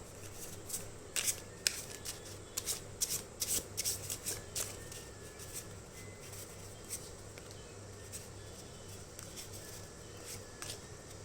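A tarot deck shuffled by hand in short, crisp flurries of card snaps, close up over a steady low hum, pausing midway before a few lighter riffles.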